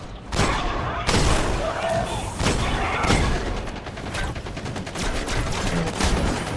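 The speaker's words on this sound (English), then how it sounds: "You got a machine gun." Rapid gunfire bursts from a machine gun in the video game Destiny, loud and close, with repeated sharp volleys and thumping impacts across the stretch while a person talks over them.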